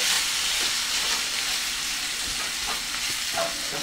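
Beef chunks browning in hot oil for a country-style stew, a steady close hiss and sizzle throughout with faint scraping and stirring now and then.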